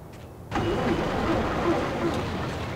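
A car engine cranks and catches in the Max Payne game at a harbor, then runs steadily with a loud, close, even drone after a brief quiet start.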